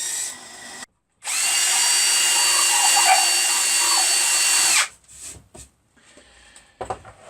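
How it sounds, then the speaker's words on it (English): Power drill boring holes in an 8-foot timber for monkey bars inside a small shed; a loud, close, steady whine runs for about four seconds after a short first burst, followed by quieter handling knocks. "Just drilling some holes"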